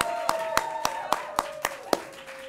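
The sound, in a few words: audience applause and cheering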